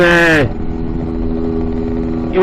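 A Lambretta S1 scooter engine while riding, a loud steady buzzing drone close by, with a rising rev at the start and again at the end.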